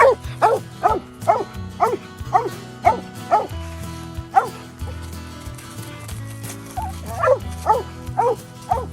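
A coonhound bays repeatedly at a treed raccoon in steady, drawn-out howling barks, loud and fairly close, with a brief pause midway before the baying resumes.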